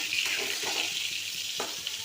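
Water is poured from a tap or jug into a cooking pot during a home lunch preparation, a steady close splashing stream with a few brief clinks, no talking.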